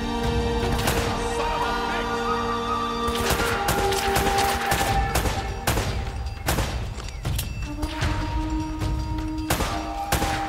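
Bursts of gunfire in the action game Uncharted: Drake's Fortune, with sharp, loud shots clustering in quick volleys over tonal background music and ambience.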